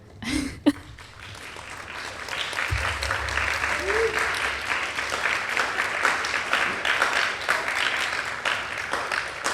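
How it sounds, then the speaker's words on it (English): Audience clapping at a YWCA talk on teen dating violence, a steady crowd applause building after a cough and a sharp knock, continuing at moderate level for several seconds with brief voices underneath. "I think they're clapping for you"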